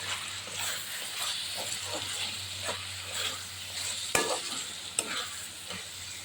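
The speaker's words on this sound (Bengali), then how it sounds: "আর এখানে গোটা রসুন এখানে টমাটো আর দুটো কাঁচা লঙ্কা সব কিন্তু আমি এতে একসঙ্গে দিয়ে দিলাম দিয়ে এবারে আবার একটু নেড়ে চলে নিলাম" Whole garlic cloves, tomato and two green chilies stir-frying together in a pan for a rustic chicken dish, with a steady sizzle under repeated scraping strokes and a couple of sharp utensil knocks, no talking.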